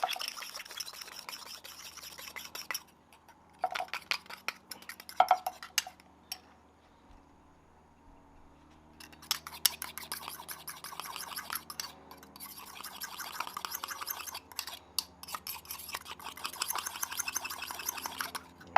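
Honey and a teaspoon of yellow mustard are stirred into a sauce in a bowl, with irregular scraping and clinking of a utensil against the bowl in bursts and a quiet pause midway.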